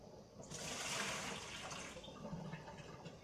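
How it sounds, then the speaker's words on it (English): Water is poured off settled tapioca starch, giving a soft, close splashing gush that swells and then tapers into lighter trickling, fairly quiet overall. "what you're going to be able to do is drain this water off fine"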